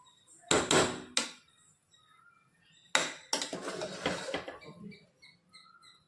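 Biryani with meat being stirred and mixed in a cooking pot, giving a few loud scraping, clattering bursts of spoon against metal, with a pause between them and quiet in the gaps.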